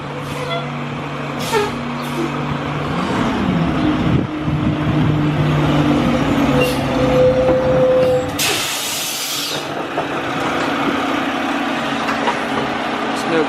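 Garbage and recycling truck driving slowly along a residential street in the USA, a steady engine rumble with air-brake hisses and a brief loud burst of spray-like hiss midway, a voice speaking intermittently over it.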